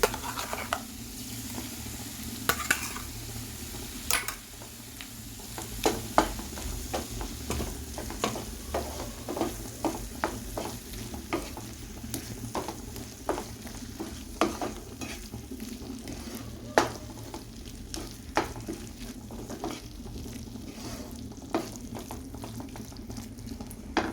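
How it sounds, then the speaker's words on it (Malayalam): A ground spice paste fries and gets stirred in a pan for paneer sandwich filling, a steady close sizzle with frequent scraping clicks and taps of the spoon throughout, no voices. "നമ്മൾ നേരത്തെ അരച്ച് വെച്ച പേസ്റ്റ് ഫ്ലഫി ആക്കാനെ കൊണ്ട് അതിനകത്തിലേക്ക് ഇട്ട് കൊടുക്കുക."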